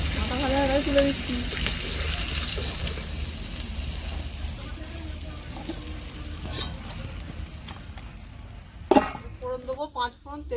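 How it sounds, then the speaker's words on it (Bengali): Five-spice seeds, bay leaf and dried chilli hit hot fish oil with a bright, continuous sizzle, crackling close up, while a voice speaks briefly at moments over the frying. "মাছের তেলের মধ্যে ফোড়নটা দিয়ে দিচ্ছি, 5 ফোড়ন দিয়ে দিচ্ছি"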